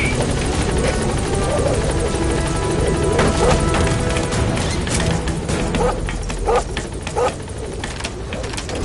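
P-Quad helicopter arriving at a landing zone in Metal Gear Solid V, a loud, steady rotor roar filling the scene throughout with scattered higher chirps and clattering bits over it, no speech.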